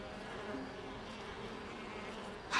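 A swarm of bees in the video game Elroy and the Aliens, buzzing in a steady, continuous drone for the whole stretch, moderately close, with a brief louder burst at the end.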